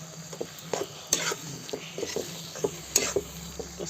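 A spoon stirs fried paneer into gravy in a pan over a wood-fired chulha, with soft scraping strokes and gentle clinks against the metal over a faint, low sizzle.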